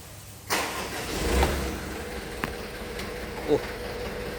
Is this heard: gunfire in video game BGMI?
no